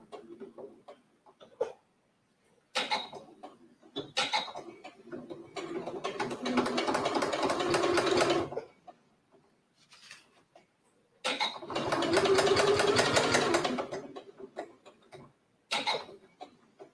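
A domestic sewing machine quilts Italian leather, running in two long, steady mechanical bursts of fast needle ticking, with short isolated clicks and taps before, between and after them.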